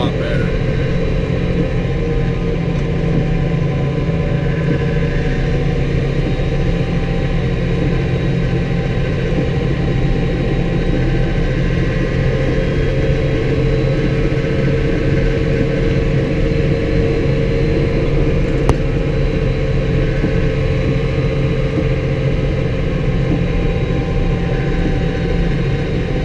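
A pickup truck in two-wheel drive pushes snow during a winter storm, its engine droning in a steady low rumble from inside the cab throughout, loud and unchanging with road and plow noise.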